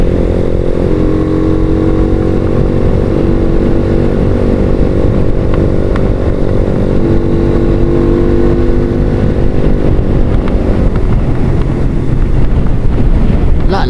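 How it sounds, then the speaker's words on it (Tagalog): Loud, steady wind roar buffeting the microphone alongside a droning 150cc motorcycle engine during a top speed run, continuous throughout with no voices. "Lakas ng hangin."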